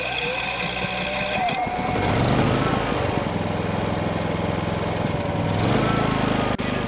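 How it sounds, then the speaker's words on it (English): A Predator 5000 gasoline generator cranks and its engine catches, then settles into a steady loud running drone with a rough, buzzing mechanical tone, heard up close. "we're going to hit the engine start button"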